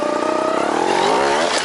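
A trials motorcycle engine revs hard under held throttle on a muddy climb, its loud droning pitch rising and wavering steadily through the short stretch with no talk.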